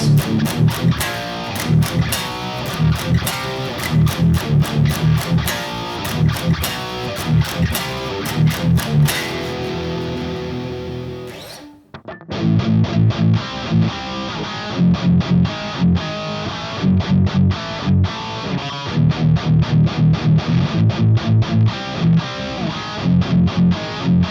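A distorted electric guitar chugs through a loud power chord riff with steady rhythmic strums, cutting out briefly midway before the riff resumes.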